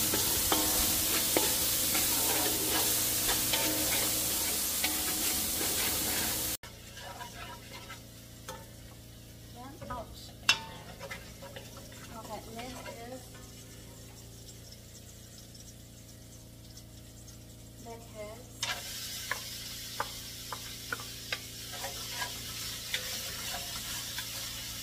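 Garlic and onion fry in a pan with a steady sizzle, loud at first, then quieter with sporadic clinks and scrapes of stirring, before the sizzle swells again near the end.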